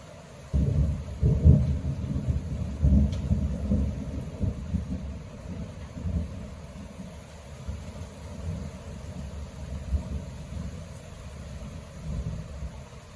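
Deep rolling thunder rumbles through a heavy rain shower during a big storm, loud low booms swelling and fading over a steady wash of rain, with no voices.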